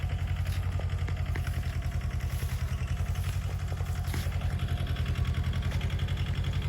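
A tractor engine runs steadily near a castor farm in Gujarat, a loud, continuous low rumble with a fast rhythmic chug and light mechanical clatter throughout, with no speech.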